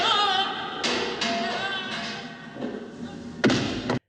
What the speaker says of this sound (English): you can actually hear him hitting things on his way down